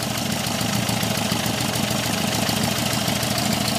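The Herbie the Love Bug car's engine idles smoothly once warmed up, a close, even, continuous hum and rumble with a faint steady pulse and no talking.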